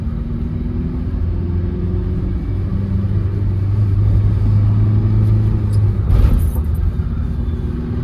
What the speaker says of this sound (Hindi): तीसरा गियर मारा अपना चल रही है गाड़ी आराम से